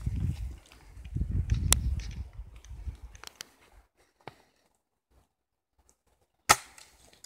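An SVD rifle fired at a small can target outdoors: a single sharp, distant crack stands out late, after a stretch of low rumbling wind noise and a few faint clicks.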